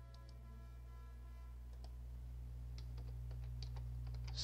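Quick, light clicks of typing on a computer keyboard while renaming a folder in Windows, a short run of keystrokes alone over a steady low hum, close and fairly faint.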